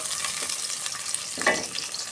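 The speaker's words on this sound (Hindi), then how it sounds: "घ्यो हो गया गर्म, अब डाल देते हैं प्याज।" Onions dropped into hot ghee for potato, pea and green chilli rice, a steady hiss of frying with a brief louder crackle and stir partway through.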